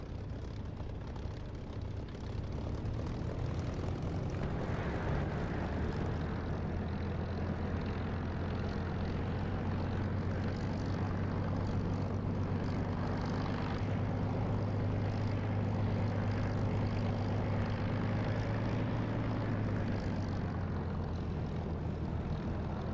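A propeller aircraft engine taxiing in a DCS or War Thunder flight sim drones steadily and loudly throughout, a continuous low hum with a rising tone partway through and no talk.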